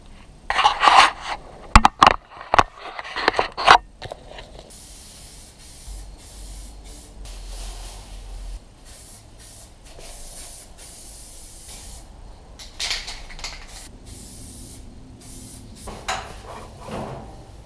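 Spray painting a car engine bay for a final coat: bursts of aerosol hiss, several sharp short sprays early on, then quieter intermittent spraying and faint handling noises.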